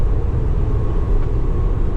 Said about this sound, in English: I have the exhaust brake in level 3, or engine brake in level 3